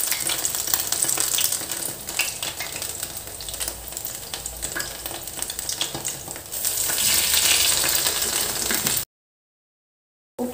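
Eggplant fries in hot, bubbling oil with a dense, close crackle and sizzle that swells briefly, then drops to sudden silence.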